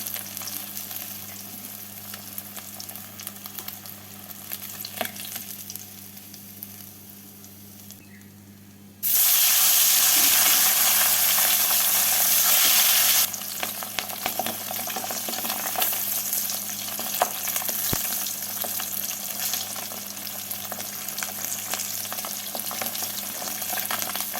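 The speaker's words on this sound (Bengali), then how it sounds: "মাছগুলো ভাজা হয়ে গেছে তুলে নিচ্ছি" Lyata fish fry in hot oil in a pan, producing a continuous close sizzle with a louder, harsher spitting burst partway through before it settles back to a steady crackle.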